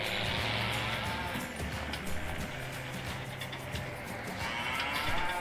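Cattle moo in the farming game Landwirtschafts-Simulator 19, several drawn-out low calls at moderate distance over a busy background of farm and machine noise.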